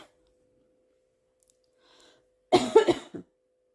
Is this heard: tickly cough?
yes